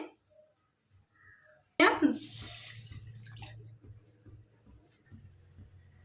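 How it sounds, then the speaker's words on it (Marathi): Two cups of water poured into a hot kadhai with melted butter on a gas stove: a sudden loud splash and hiss bursts in, then settles into a softer bubbling over a low hum. "दोन कप पाणी ओतले"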